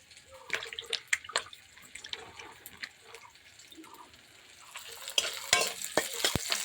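Potatoes fry in a pan with a soft, intermittent sizzle, broken by scattered clicks and scrapes of a utensil against the pan, growing busier and louder toward the end.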